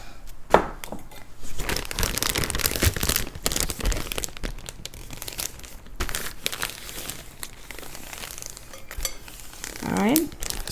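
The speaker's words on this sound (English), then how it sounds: "go ahead and give it a good massage so you can get all the meat with the spices mixed together" Beef is massaged in marinade inside a plastic bag, giving close, busy crinkling and squishing of plastic that runs nearly throughout, with a few sharper crackles and rustles standing out.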